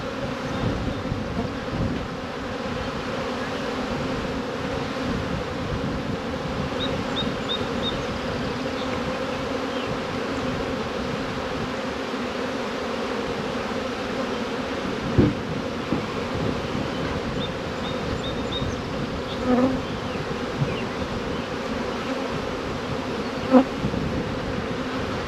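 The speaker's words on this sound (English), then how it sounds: "all the bees are coming back to the wrong hive" Honeybees swarm around crowded hive boxes on a cold spring day, a dense continuous buzzing drone with a few closer bees zipping past, heard outdoors with no talking.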